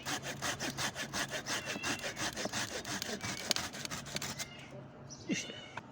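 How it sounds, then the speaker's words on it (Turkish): Steady strokes of a hand saw rasp through a grapevine trunk up close, then slow and stop, followed by a few faint knocks and a brief high voice-like sound. "Bakın aşıyı kesiyorum testereyle."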